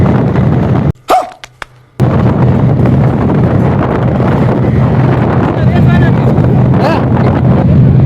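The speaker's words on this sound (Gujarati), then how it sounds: "એટલી સ્પીડમાં અમારું ટ્રેક્ટર જઈ રહ્યું છે." A tractor speeding along the road to the Varana Khodiyar temple fair, its engine drone buried under heavy wind buffeting on the microphone, with a brief dropout early on before the rumble returns.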